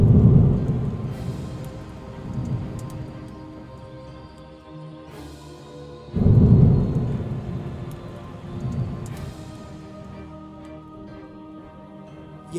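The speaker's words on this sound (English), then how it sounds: "A tornado-like storm hit Bandel in Hooghly district of West Bengal ahead of Cyclone Yaas hitting the coast of West Bengal." A thunderstorm with rain ahead of Cyclone Yaas in Bandel, Hooghly district, West Bengal: two heavy thunder rumbles roll in and fade over steady rainfall, loud and close, with no voices.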